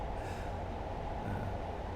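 Class 47 diesel locomotive in a train simulator game, a continuous low rumbling drone of engine and rolling wheels, steady and fairly loud throughout with no talk.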